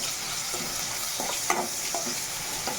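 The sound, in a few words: crushed garlic and cumin frying with onion and green chili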